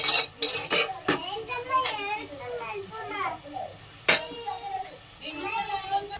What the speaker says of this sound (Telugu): గరిటెతో శుభ్రంగా కలుపుకోవాలి